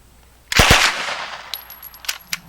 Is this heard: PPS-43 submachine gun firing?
yes